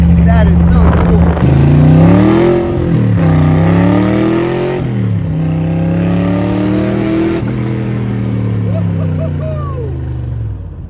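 A Shelby Cobra replica's engine revs hard while driving, loud and close, with rising and falling pitch sweeps through repeated acceleration, wind noise mixed in.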